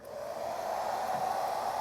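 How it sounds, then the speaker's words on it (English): A handheld blow dryer runs on its low speed setting, giving a steady, moderately loud airy whoosh with a constant motor hum that holds evenly throughout with no voices. "this is my blow dryer right here"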